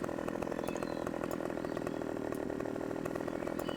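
A chainsaw in the video game Farming Simulator 15 runs at a steady, loud buzzing whine as it cuts a tree, unbroken for the whole stretch with no talking.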